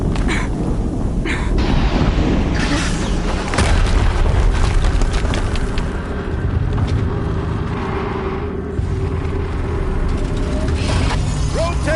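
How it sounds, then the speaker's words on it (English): Heavy rumbling explosions and booms from the video game Horizon Zero Dawn, a loud continuous roar with crackling bursts throughout and no talking. "Another explosion."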